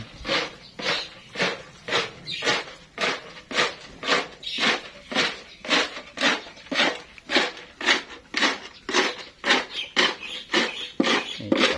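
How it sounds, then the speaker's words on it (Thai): Pellet and powder cattle feed being mixed together by hand for fattening cattle, a steady rhythmic scraping and rustling repeated about twice a second, close and fairly loud with no talk. "คลุกข้าวให้เข้ากันครับหั่นเม็ดหั่นผง"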